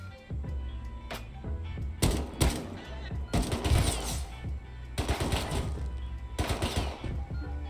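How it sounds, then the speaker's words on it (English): Bursts of gunfire in the survival game Rust, rapid clusters of shots in several loud volleys separated by short pauses, close and sharp. "How's he shooting at me?"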